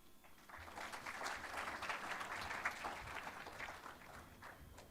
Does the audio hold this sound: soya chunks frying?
no